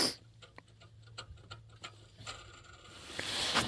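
A worn air conditioner tensioner pulley on an engine gives off a steady mechanical grinding with rapid ticking, ratchet-like clicks, a low hum underneath and a brief louder whoosh at the end.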